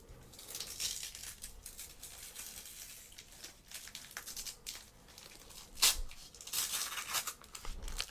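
Packaging on a deck of playing cards being cut and torn open slowly and delicately, with close, soft crinkling and tearing and a sharper rip partway through.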